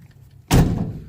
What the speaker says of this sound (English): Doors even shut nice.